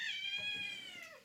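A single short, rising-then-falling meow from a cat during attack-command training, close and clear, with no one talking over it.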